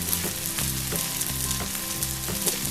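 Ground turmeric, chilli and coriander powders are sautéed with ginger and garlic for Thalassery egg biryani, a close steady sizzle broken by rhythmic stirring scrapes about every half second, no one speaking.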